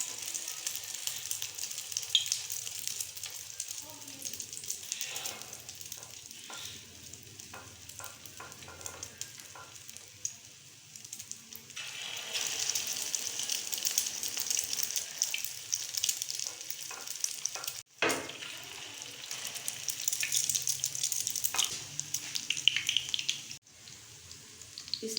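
Beaten eggs fry in ghee on a hot tawa, giving a steady crackling sizzle throughout with occasional sharper spits and a brief dip near the middle.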